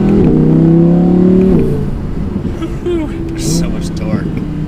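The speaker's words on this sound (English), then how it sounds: "So getting out on the road now, we'll start from second gear. Just give it a good amount of gas." A 2018 Audi R8 V10 RWS accelerates hard from second gear, its engine roaring loudly and rising in pitch before easing off to a lower, steadier drone.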